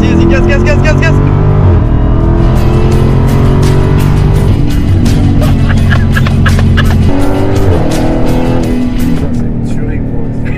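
A 717-horsepower Dodge Challenger SRT Hellcat engine accelerating hard, a loud continuous roar with rising pitch and gear-change drops, heard from inside the car while a passenger urges more throttle in French.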